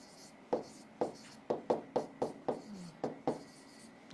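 Marker or chalk writing on a board during a chemistry lesson, about ten crisp rhythmic taps and short strokes at close range, quiet between marks and without speech.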